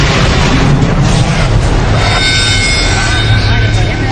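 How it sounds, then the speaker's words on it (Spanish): A colossal explosion rocks a North Sea oil platform holding tanks of crude oil, a loud, sustained roaring rumble with heavy low-end churn and crackle lasting throughout, with no clear single blast onset. "otra explosión colosal sacudió la embarcación"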